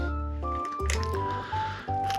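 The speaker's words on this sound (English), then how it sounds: "And then we'll pour the boba in on top of that and give it a stir." Sticky boba pearls are poured into milk over ice and stirred, giving wet squelching and squishing sounds close by, with a few gooey slurps through the short stretch and no talk.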